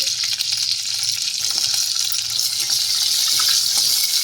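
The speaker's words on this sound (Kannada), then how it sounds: "ಒಂಚೂರು ಎಣ್ಣೆ ಇಟ್ಟಿದ್ದೀನಿ ಅದಕ್ಕೊಂದು ಸ್ವಲ್ಪ ಜೀರಿಗೆ ಹಾಕ್ತಾಯಿದ್ದೀನಿ ಹಾಕ್ಬಿಟ್ಟು ಹಸಿಮೆಣಸಿನ್ಕಾಯಿ ಹಾಕ್ತೀನಿ" Cumin seeds and green chillies fry in a little hot oil, giving a steady, loud sputtering hiss with small crackles that continues throughout, no speech.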